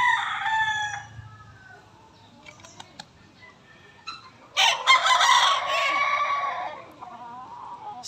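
A young gamecock (stag) crows twice, a shorter call at the start and a louder, fuller crow in the middle, close by with no talk over it.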